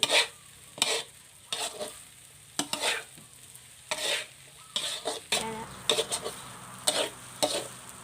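Fried rice with fermented pork being stir-fried in a wok, a run of scraping stirs and sizzling bursts repeating roughly every second, close and moderately loud, with no talk.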